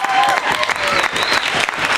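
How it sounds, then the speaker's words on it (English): An audience at a comedy hypnosis show claps loudly and steadily for about two seconds. Dense, close applause fills the room with a few whistles or cheers mixed in. "Give them a round of applause"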